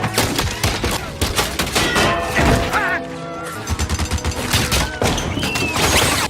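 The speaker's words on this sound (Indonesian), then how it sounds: "Bogu dan anak buahnya yang tersisa mulai menembakkan senjata Gatling dari sebuah bukit yang mengarah ke kota" In a western film battle, a Gatling gun fires from a hill down into a town, and a dense, chaotic fusillade of rapid shots and crashes rolls on loudly and without letup.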